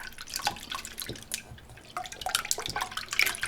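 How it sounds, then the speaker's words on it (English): A fork or whisk beats eggs with whole milk, salt and pepper in a bowl, making quiet rapid liquid clicks and small splashes in an uneven rhythm close by. "Whisk it up."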